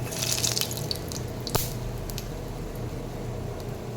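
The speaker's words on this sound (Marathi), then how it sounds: "शॅलो फ्राय करून घेऊयात पॅनमध्ये तेल घातलेलं आहे आणि त्याच्यामध्ये आता ही एक एक टिक्की आपण घालूयात" Healthy protein cutlet tikkis shallow fry in oil in a pan, giving a steady close hiss with a few sharp pops and crackles near the start.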